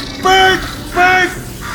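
Bird squawking in Portal 2: two loud, harsh, drawn-out calls about half a second apart, each a strained rising cry, close and prominent over a low background.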